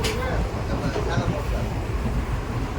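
A passenger train rolls along at speed, a steady loud rumble and rattle of the carriage filling the scene, with people talking over it.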